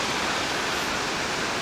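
Ocean waves wash in as a loud, continuous broadband roar of surf, close and unbroken for the short stretch, with no voices over it.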